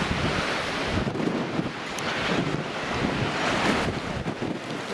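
High tide waves at Watchet surge and splash against the seafront in a continuous roaring wash, with gusty wind buffeting the microphone and the surge swelling and easing over a few seconds.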